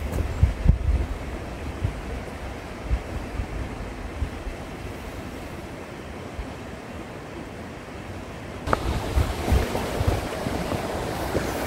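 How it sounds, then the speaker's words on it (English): Steady broadband rush of running water from a small waterfall during a storm with heavy rain and wind, continuous and fairly close, with occasional gusts of wind buffeting the microphone. "It's a wee waterfall."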